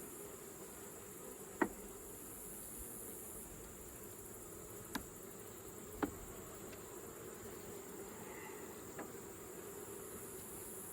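A steady, faint buzz of honeybees in a Langstroth hive drones continuously, with a few soft clicks scattered through it.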